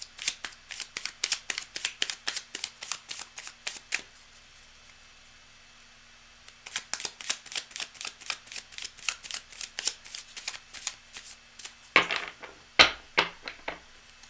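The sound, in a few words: shuffling a deck of cards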